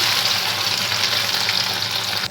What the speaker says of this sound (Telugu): పన్నీరు ఇలా వేయించుకోవాలి.